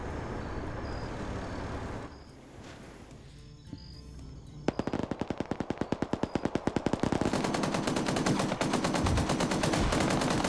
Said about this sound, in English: Got some Dishka fire going into this MRAP